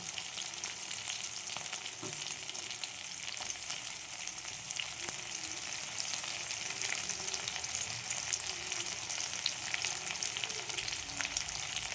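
Two onions fry lightly in oil in a pan before ginger, garlic and cauliflower are added, producing a steady close sizzle with occasional soft stirring taps and no voices.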